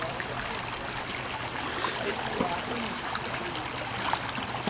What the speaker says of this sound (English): I found myself a nice stream